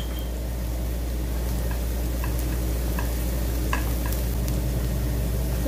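Garlic frying in a pan for fish biryani, a constant hiss with a low hum underneath, and a few light ticks and clinks scattered through it, close and steady with no talk.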